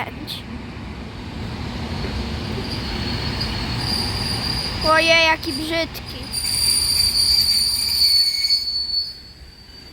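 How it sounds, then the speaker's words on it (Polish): A Regio passenger train from Zawadzkie rolls past with a steady rumble, then its wheels let out loud, high squeals that rise and waver for several seconds. A person speaks briefly over the noise. "pociąg Regio ze stacji Zawadzkie, Zawackie N57"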